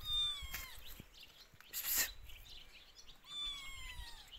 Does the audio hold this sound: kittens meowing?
yes